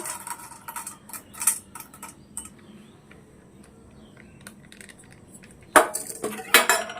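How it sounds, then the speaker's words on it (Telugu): Popcorn kernels coated in oil are tipped into a pan, giving scattered clinks and rattles, quiet in the middle and then a sharper clatter of metal contact toward the end. "ఇప్పుడు ఇదంతా మనం గింజలు ఆయిల్ కలిపింది మనం దీంట్లో వేసేసుకుందాం"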